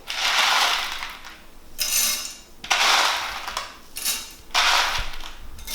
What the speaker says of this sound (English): We're going to grind this up and show you the process of making cornmeal